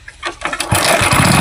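An old motorbike starts with a few sputtering turns before the engine catches and settles into a loud, steady running rumble up close.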